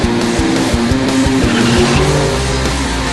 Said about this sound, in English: High-flow dual exhaust.